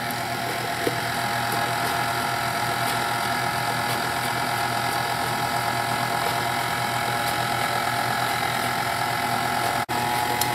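An electric mixer beats sorrel pound cake batter made with a sugar and butter mixture, vanilla or mixed essence and sorrel concentrate, giving a steady, close motor whir that runs unbroken throughout with no talk.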